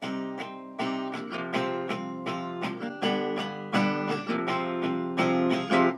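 An acoustic guitar strums a steady chord pattern for part 2 of a song, each bright downstroke cutting in sharply and ringing briefly, close and alone with no voices.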